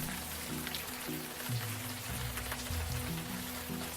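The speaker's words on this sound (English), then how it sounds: "We're not going to learn anything out here in the rain." Steady rain pattering on surfaces in the Unavowed adventure game, a continuous hiss alone at moderate level over low tonal music-like hums.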